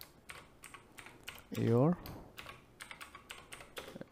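Fingers tap steadily on a computer keyboard, a quick, close run of light plastic clicks, briefly broken by one short spoken word.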